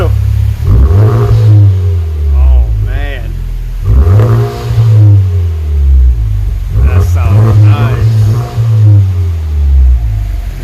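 A 2018 Honda Civic Type R with an HKS exhaust revs up loudly and up close in three rising-and-falling bursts, with a deep rumble holding between the revs.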